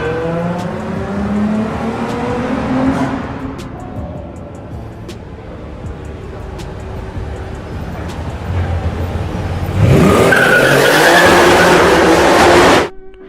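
A Nissan 350Z engine and exhaust drone through gear changes while driving, rising and falling in pitch with a brassy, trumpet-like tone, then surging loudly under hard acceleration near the end before cutting off abruptly.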